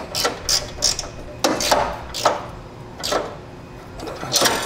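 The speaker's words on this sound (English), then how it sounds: "just get enough of your wrench in there, we'll be able to tighten it down" A hand wrench ratchets in short, sharp bursts while tightening bolts on a Roadmaster Direct-Connect base plate kit on a 2005 Jeep, about ten close, crisp clicking strokes in uneven groups with brief pauses between them.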